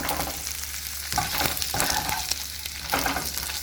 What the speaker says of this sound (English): I need my corn pork to fry up crispy.